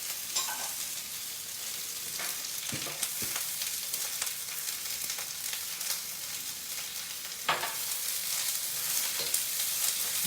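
Beans, carrots and cabbage stir-fry in hot oil for Indo-Chinese Hakka noodles, giving a steady, close sizzle with a few sharper crackles and stirring scrapes, no talking.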